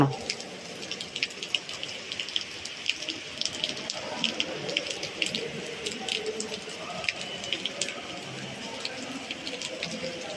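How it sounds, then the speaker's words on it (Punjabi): A steady patter of light drizzling rain on a farm in Punjab, with fine drops ticking continuously and evenly throughout, no voices. "ਨਿੱਕੀ ਨਿੱਕੀ ਕਣੀ ਦਾ ਮੀਂਹ ਪਾਈ ਜਾਂਦਾ ਹਟਦਾ ਹੀ ਨਹੀਂ"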